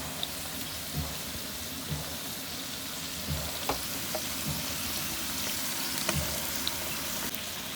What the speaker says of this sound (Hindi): पाँच मिनट तक अच्छी तरह इसको भून लेते हैं।